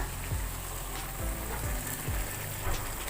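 Chopped capsicum laid on top of a mushroom curry simmering in a pan, giving a steady loud sizzle and bubbling with faint stirring bumps, close and without talk.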